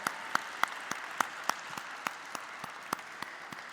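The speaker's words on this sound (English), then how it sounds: "Let's begin this morning with a thunderous round of applause." Sparse, scattered hand claps at a stock exchange listing ceremony for Yaap Digital Limited, a modest round of applause with individual claps spaced out, moderately near and fairly quiet, no voices over it.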